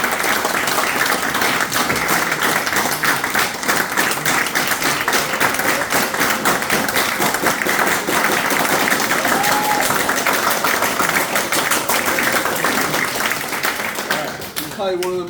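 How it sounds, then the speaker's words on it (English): Guests at an outdoor Eagle Scout ceremony clap continuously for about fifteen seconds. The applause stays loud and even, with a faint voice briefly audible near the end. "Clap it up."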